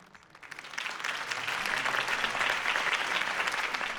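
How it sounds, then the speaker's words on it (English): A crowd applauds at a political campaign speech in the Batman Telltale Series game, the clapping swelling from quiet to a steady, dense roar that continues to the end. "could have heard that applause"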